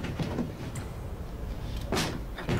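A door being opened, heard as a few short creaking, rattling bursts near the start and again toward the end over a steady, noisy background hum, moderately loud and with no talk over it.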